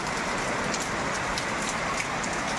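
Rain falls steadily in a dense, even hiss of drops on surfaces. It is close and constant for the whole stretch, with no talking.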